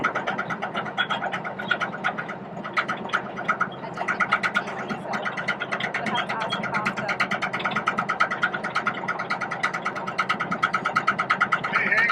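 A military tank's engine drones steadily while driving at the American Classic Car Museum, a continuous mechanical rumble under nearly constant talk from people aboard.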